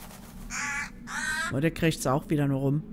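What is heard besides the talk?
raven cawing in the video game Dark Parables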